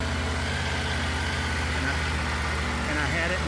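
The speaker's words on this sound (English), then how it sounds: "So I went ahead and started the bike" A Triumph Tiger 900 motorcycle engine running at a steady idle, a constant low throbbing hum held throughout at moderate loudness, with a voice talking over it.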